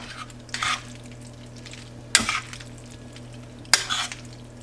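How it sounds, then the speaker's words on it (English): Pasta goes into a pot for a creamy prosciutto pasta dinner with three brief, sharp rattling bursts spaced a second or so apart, each followed by a soft settling rustle against a quiet kitchen background. "we are gonna go ahead and toss our pasta in"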